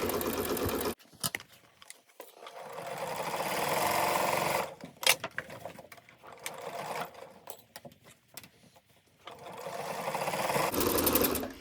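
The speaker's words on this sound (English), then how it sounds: "I'm going to sew all the way around" A sewing machine stitches around a fabric tote bag, its fast motor whir running in several bursts separated by brief pauses, close and steady with no talking.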